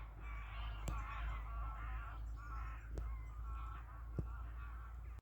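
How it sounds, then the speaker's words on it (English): A large flock of geese honks overhead above a rural cabin in a dry spell, with many overlapping calls over a low wind rumble and a few sharp clicks nearby. "That's a lot of geese. An awful lot of geese."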